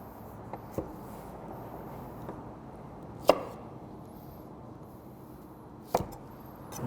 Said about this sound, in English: I'm going to get those peeled and diced as well.